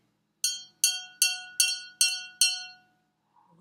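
A glass filled with water to the very top, part of a water xylophone, is struck six times in an even rhythm, each clear bright ring decaying before the next, close and alone.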